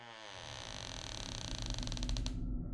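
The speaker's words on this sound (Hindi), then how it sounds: "दरवाजा खुल गया" Heavy door slowly creaking open, a single drawn-out groaning creak that rises in intensity and ends in a few rapid stuttering clicks before falling silent.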